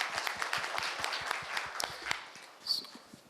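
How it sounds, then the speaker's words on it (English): A hall audience at a shrimp retail panel event claps to welcome an arriving government minister, a moderate spread of individual claps, fairly sparse and uneven, fading toward the end. "So a big round of applause for him"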